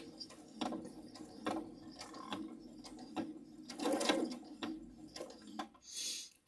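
A sewing machine slowly stitches pinned quilt blocks together, giving soft, quiet mechanical whirs in short uneven bursts with small pauses between them, ending in a brief hiss.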